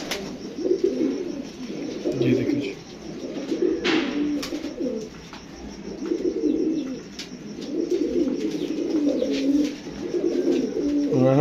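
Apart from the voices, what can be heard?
pigeon cooing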